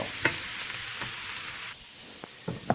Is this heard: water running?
no